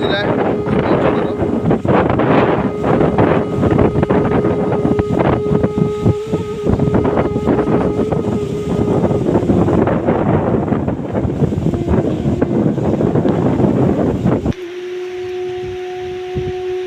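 Strong storm wind buffets the microphone over crop fields during a cyclone with rain, a loud continuous roar with gusts, ending in a quieter stretch with a steady hum.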